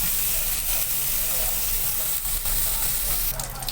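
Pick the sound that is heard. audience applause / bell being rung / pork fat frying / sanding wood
pork fat frying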